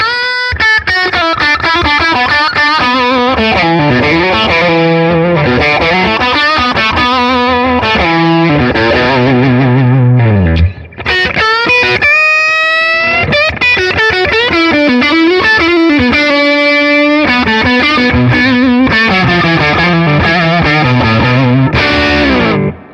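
Distorted Fender American Professional Stratocaster through its Shawbucker humbucking pickup playing chords and melodic runs, loud and continuous with a thick, saturated tone and a brief pause midway.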